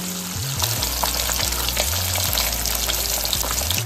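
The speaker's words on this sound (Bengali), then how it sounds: "তাহলে মাছগুলো মোটামুটি লাল করে ভেজে তুলে নিচ্ছি।" Fish pieces sizzle and crackle as they fry in hot oil, a loud, continuous bubbling hiss with occasional sharper pops, close up and without talk.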